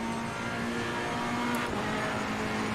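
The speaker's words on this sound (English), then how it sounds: "The engine is so angry, so angry." Race car engine in Assetto Corsa Competizione at the Imola circuit, a steady, loud, harsh engine drone with a sustained tone, briefly accented by a sharp transient, with no talking.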